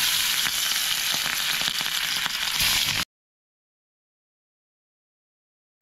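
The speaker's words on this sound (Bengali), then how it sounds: "ইলিশ মাছগুলো ভেজে নিব ইলিশ মাছ রান্নার জন্য।" Pieces of hilsa fish fry in hot oil in a pan, a loud, crackling sizzle that runs steadily for about three seconds before cutting abruptly to silence.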